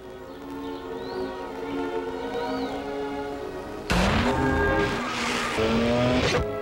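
Rotary-engined Mazda RX-8 revving with a smooth, rising and falling high-pitched buzz, then a sudden louder surge of engine noise mixed with tire squeal near the end, fairly close with no speech.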